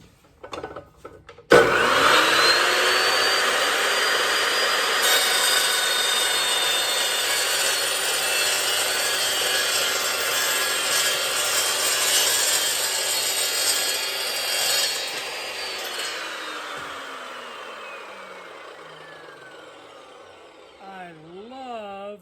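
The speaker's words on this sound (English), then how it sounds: "This new Evolution chop saw. I mean, it's awesome." An Evolution chop saw spins up and cuts through angle iron for brackets, a loud, sustained grinding whine lasting many seconds before winding down, close and dominant throughout.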